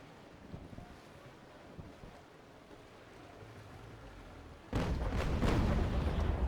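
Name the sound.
ship cannon fire in the video game Naval Action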